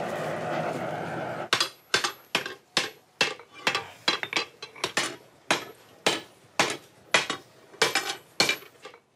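A blacksmith hammers an iron hinge strap on an anvil, about sixteen loud ringing metallic blows in an uneven, quickening rhythm after a short stretch of muffled background noise, close and alone with no talk.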